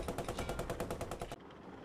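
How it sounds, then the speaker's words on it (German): Rapid automatic gunfire from a tank in the video game Post Scriptum, a quick burst of about a dozen evenly spaced shots that stops abruptly, leaving a low rumble. "HE laden und hinter uns schießen."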